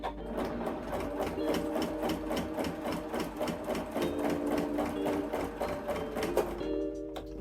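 A sewing machine doing free motion stitching runs in fast, steady needle strokes to draw a scroll and flower design, close and continuous, and slows and stops near the end.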